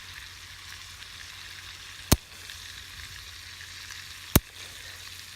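Meat fries steadily in a pan during a survival-kit camp cook, a continuous soft sizzle with two sharp clicks of a fork tapping the pan as it is stirred, no talking.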